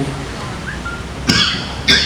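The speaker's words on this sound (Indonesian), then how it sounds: "Saya agak batuk ini, gara-gara salah minum." Two sharp coughs, a moment apart, cut through a steady background hum, close and fairly loud.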